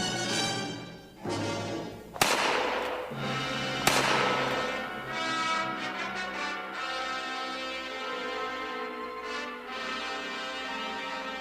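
Two sharp revolver shots ring out about a second and a half apart over a continuous musical background.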